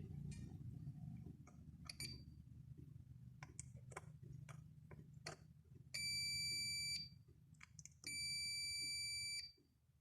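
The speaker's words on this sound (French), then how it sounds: "le voyant rouge va s'allumer, ça va faire un bip et il y aura une valeur qui va s'afficher" Repeated electronic multimeter beeps while testing an oil pressure sensor on a BMW E30 M40B18 engine: faint scattered clicks, then two long steady high-pitched tones about two seconds apart over a low background hum.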